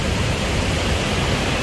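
Waterfall giving off heavy mist, pouring over rock as a steady, full roar of rushing water, loud and unbroken with no other sounds on top.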